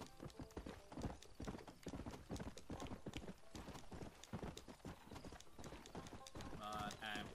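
A horse gallops in Red Dead Redemption, with steady, close hoofbeats thudding in a fast, even rhythm from start to finish.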